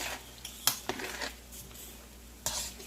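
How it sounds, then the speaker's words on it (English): A utensil stirring a thick sauce paste in a pan while making beef broccoli with noodles, giving a few scattered metallic clinks and scrapes over quiet kitchen background, close and without talk. "I'm just going to stir it so I can get that thick paste"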